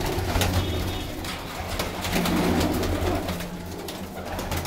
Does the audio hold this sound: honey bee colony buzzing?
no